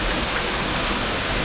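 Steady, dense rush of water from a waterfall near a cave entrance, a broad continuous roar with no pauses, close and fairly loud throughout.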